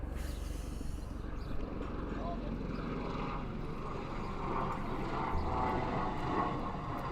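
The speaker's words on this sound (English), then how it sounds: "Plane flying over." Propeller airplane passing over a cricket ground during a men's T20 match, a steady low droning hum that swells slightly toward the end, with faint crowd or voices beneath it.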